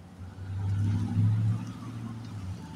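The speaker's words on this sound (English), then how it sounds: "I'm standing out here and waiting for cars going by" A car passes on a road close by, its low engine rumble rising and then fading over a few seconds, with a steady traffic hum underneath.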